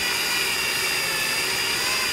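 A handheld drill spins a compressor armature for resurfacing, giving a steady, continuous whirring hum close by with no talking.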